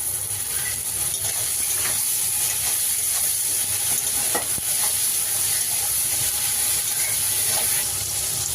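Steady sizzling of chopped onion frying in a pan, with occasional stirring scrapes, continuous and close, no voices.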